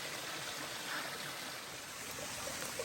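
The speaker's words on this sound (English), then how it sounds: "There's a waterfall over here." A small waterfall splashes steadily along a forest stream on a wilderness hiking trail in Killarney Provincial Park, a continuous, fairly close broadband rush of water with no voices over it.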